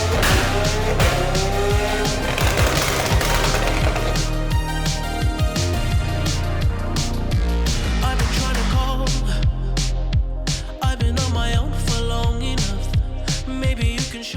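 McLaren 765LT tuned toward 1000 horsepower, running in dyno mode on a dyno, gives a loud, sustained engine roar with rising and falling revs and sharp transient cracks throughout, heard alone without talk.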